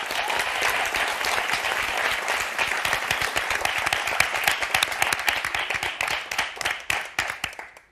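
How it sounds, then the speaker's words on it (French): Loud, sustained applause from a game show studio audience on Motus, dense clapping filling the room for several seconds before thinning and tapering off near the end. "Ça ne va pas nous empêcher d'applaudir très fort Claude et Béatrice."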